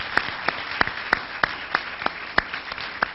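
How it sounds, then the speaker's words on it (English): A crowd at a Morehouse College event gives a round of applause to attending high school students, with sharp, evenly spaced individual claps standing out over a dense bed of clapping for a few seconds. "Would you please stand and let us give you a hearty round of applause."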